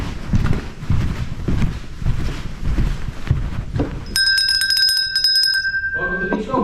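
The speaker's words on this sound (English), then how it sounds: "What happens when I ring that bell?" A small bell rings out in bright repeated strokes on Lord Howe Island amid rustling and outdoor movement, with voices nearby before and after.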